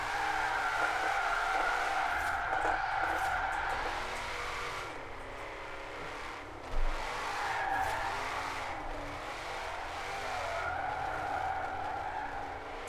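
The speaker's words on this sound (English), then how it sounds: "pop the clutch, and the car spins easily" A car in Forza Horizon 4 spins out with a clutch pop, its tires squealing and skidding steadily under engine noise for several seconds, with a short thump midway and no talking.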